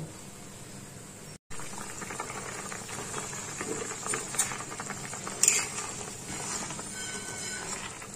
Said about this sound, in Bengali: ঝোলটা ফুটে গেছে, আমি এবার মাছগুলো এর মধ্যে ছেড়ে দেবো।